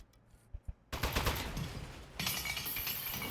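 A turret in the video game Aperture Desk Job fires a dense, continuous burst of gunfire, loud and sustained, swelling even harsher partway through after a few isolated pops at the start.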